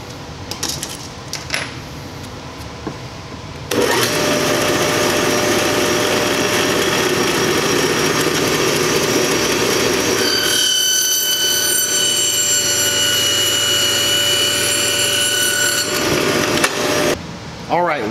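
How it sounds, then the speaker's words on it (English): A hydraulic hose for a tractor bucket is being cut, with a loud, continuous abrasive cutting noise that lasts about thirteen seconds and shifts in tone partway through, then stops abruptly. "once we're done cutting the hose"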